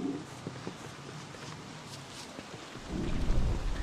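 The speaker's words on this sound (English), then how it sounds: "Now it's raining." Rain and thunder from the video game Don't Starve Together, a steady patter of rainfall with a deep rumble of thunder swelling toward the end.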